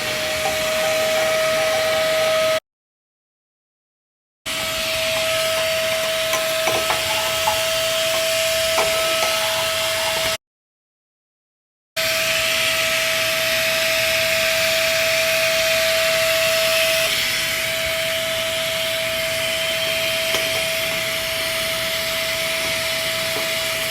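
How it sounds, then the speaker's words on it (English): An ash vacuum sucking ash out of a Quadra-Fire 1200-I pellet stove insert: a loud, steady roaring whine with a high whistling tone, cut off twice by short silent gaps, and occasional rattles of debris going up the hose. "you need an ash vacuum to suck all that out of there"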